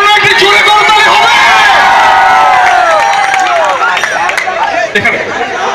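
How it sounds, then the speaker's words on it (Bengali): A loud crowd at a cafe opening in Khilgaon cheers and chatters for cricketer Taskin Ahmed, with a dense, continuous roar of voices and some clapping mixed in, steady throughout before easing slightly near the end. "তাসকিনের জন্য একটি জোরে করতালি হবে।"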